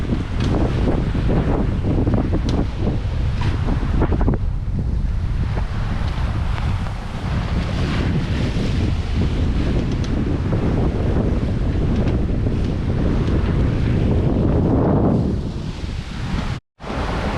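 Heavy wind buffets the microphone while waves surge and crash around a heeling sailboat crossing from Puerto Rico to the Bahamas, loud and steady throughout, with a brief dropout near the end.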